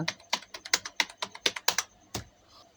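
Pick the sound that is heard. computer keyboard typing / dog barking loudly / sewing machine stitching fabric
computer keyboard typing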